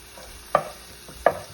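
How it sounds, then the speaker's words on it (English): Garlic frying in a pan being stirred, a soft background sizzle broken by two or three distinct scraping strokes of a utensil, close and fairly quiet. "We'll give it a little stir. I usually want my garlic to get a little brownish."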